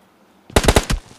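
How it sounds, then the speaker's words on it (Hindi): A burst of video game gunfire from a mobile shooter, a rapid run of about five loud, close shots after a brief quiet lead-in, with no talking. "यहाँ पर ये फायर किया जा रहा था"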